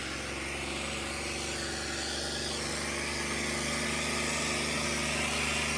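A tractor engine drones steadily at moderate distance, a continuous even hum with no talk over it, heard while hauling a trolley through heavy rain.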